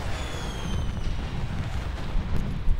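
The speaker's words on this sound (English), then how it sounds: "Hostile lightning strike targeting." Hostile lightning strike explosions pound in Call of Duty Black Ops III, a loud, dense barrage of overlapping booms and bursts with a faint high whine running through the first half.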